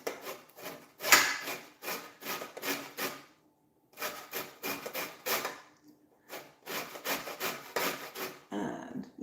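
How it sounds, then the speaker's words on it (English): Lemon is zested against a grater for holiday baking, giving close, rhythmic rasping strokes in quick bursts. Short pauses separate the bursts, and the strokes sound soft to moderate with no talking. "So I'm just putting some lemon zest"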